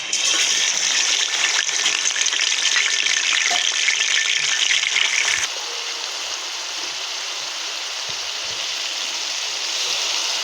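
Spice paste fries in hot oil in a pan while turnip and stinging catfish are being cooked, a loud steady sizzle that drops to a softer hiss partway through, with no talking.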